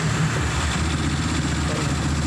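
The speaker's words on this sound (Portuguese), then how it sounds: "Espera dar uma esquentadinha aqui na moto" A Honda CG 160 motorcycle with a 7mm piston fitted in a fully rebuilt engine warms up at idle. The single-cylinder engine gives a close, steady, putting idle for a couple of seconds.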